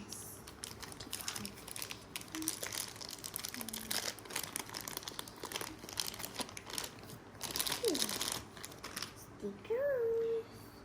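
Plastic wrapping from a Pikmi Pops surprise package out of a McDonald's Happy Meal crinkles and rustles up close in quick bursts, with brief voices chiming in near the end.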